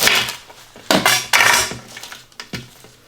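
Knife chopping cilantro stems on a cutting board for Thai oxtail beef noodle soup, with several sharp, close knocks in an uneven rhythm, each followed by a brief rustle.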